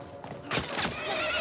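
A horse whinnies loudly in the video game The Last of Us Part 1, a shrill quavering neigh that starts abruptly and trails off over a low background rumble.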